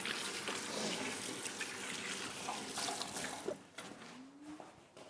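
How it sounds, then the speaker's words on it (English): Tap water runs steadily into a sink as hands are washed in a home kitchen, a continuous close splashing hiss that eases and breaks up near the end. "just put that to one side, wash my hands, and then we'll carry on."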